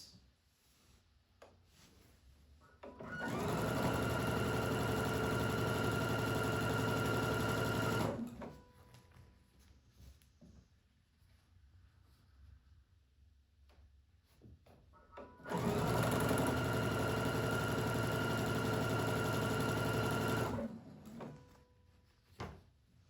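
A sewing machine runs in two steady bursts of several seconds each while chain piecing fabric, with quiet handling and pauses between the runs.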